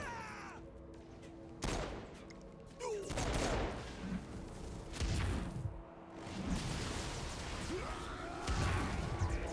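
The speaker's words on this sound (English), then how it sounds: "You've got explosive bullets here on the handguns." Explosive handgun rounds are fired in Saints Row IV, several sharp bangs and blasts spaced a few seconds apart, each with a crackling burst and short rumbling tail, fairly quiet overall.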